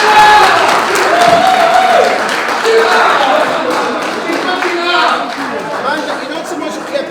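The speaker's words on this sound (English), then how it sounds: "Mandla, you're not supposed to clap for yourself." Scattered clapping from a small crowd at a golf tournament prize-giving, mixed with chatter, chuckles and a voice talking over it, fairly close and lively throughout.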